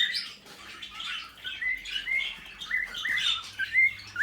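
Cockatiels and lovebirds in an aviary chirp and tweet continuously, with overlapping high whistles and squawks from several birds close by and no talking.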